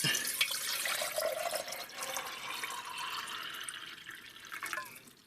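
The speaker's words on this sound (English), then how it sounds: "I've got some very cold water in this that was in my refrigerator overnight. So we're going to fill this up," Very cold water from the refrigerator pours into a Stanley Admirals mug, a continuous close splashing fill that rises and fades toward the end.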